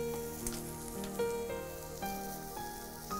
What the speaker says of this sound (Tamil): பச்சை மிளகாய் பொரியுது.